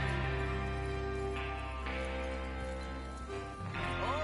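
Hooves clip-clop steadily as horses move along in Red Dead Redemption 2, joined by a brief whinny, with a continuous background music bed throughout.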